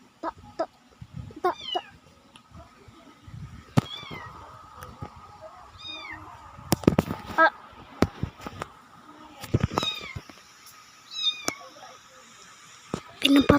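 A cat yowls and meows repeatedly in drawn-out, wavering cries between sharp knocks and bumps, with people talking nearby.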